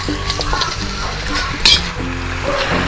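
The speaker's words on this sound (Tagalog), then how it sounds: "Haluin lang natin." Chicken feet stirred with soy sauce in a hot pan in a home kitchen, a steady sizzle under scraping and clinking of a utensil against the pan, with one brighter metallic clink partway through.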